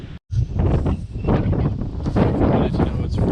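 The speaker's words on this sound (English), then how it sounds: "it's really windy out here. Well, the wind's picked up anyways." Strong wind gusts across an open field with clear skies, roaring and buffeting the microphone loudly and almost without a break after a brief dropout near the start.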